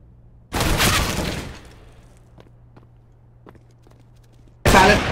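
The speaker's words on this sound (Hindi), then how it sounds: "throwing flashbang" A flashbang grenade goes off in the video game CS:GO as a loud, close burst that fades over about a second. Faint ticking footsteps follow, then a second sharp blast.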